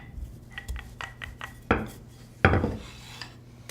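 Croissant dough rolled out on a floured bench with a rolling pin, giving soft rubbing and rolling strokes with two louder thumping passes and light clatter, close up and with no talking.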